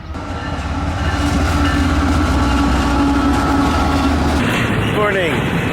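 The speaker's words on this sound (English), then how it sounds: "If you can hear me over the CSX train" A CSX freight train rumbles past close by with a loud, continuous low roar and rattling cars, steady throughout, with a squealing screech rising near the end.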